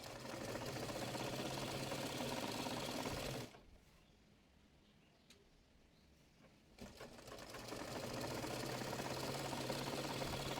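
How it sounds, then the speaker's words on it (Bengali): A domestic sewing machine stitches the folded hem of a palazzo pant leg, a loud rapid mechanical whir that stops for a few seconds of near quiet and then resumes at full speed. "ওইভাবে অপর পাশের মোহরিটিও মুড়িয়ে সেলাই করে নেব।"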